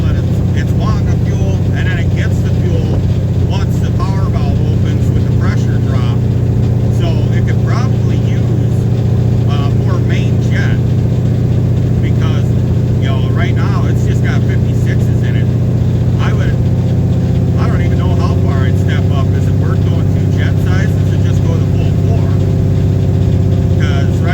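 A carbureted car engine fitted with FiTech fuel injection drones steadily nearby as the throttle is rolled on, a loud low rumble with a constant hum that deepens slightly partway through, under a voice talking.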